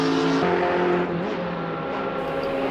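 GT3 race cars lap Spa in the Assetto Corsa racing game, a close engine howl that drops in pitch as the car lifts, then settles into a steady whine.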